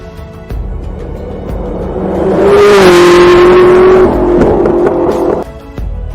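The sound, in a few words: SSC Tuatara hypercar engine revving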